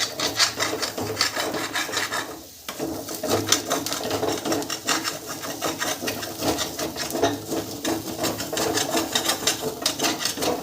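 Fried cumin potatoes being scraped off a pan with a utensil, a steady close rasping and rubbing that runs almost without a break, with a brief pause partway through and no talk.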